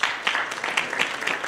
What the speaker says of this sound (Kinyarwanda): niba bakomera amashyi menshi cyane